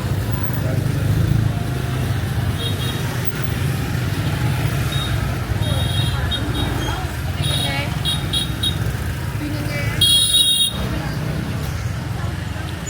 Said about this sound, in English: I legit have never seen so many motorbikes in my entire life.